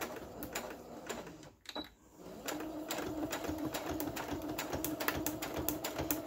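A sewing machine runs a straight stitch along a paper lapbook pocket, a quiet, steady rapid needle patter after a brief pause, with no voice.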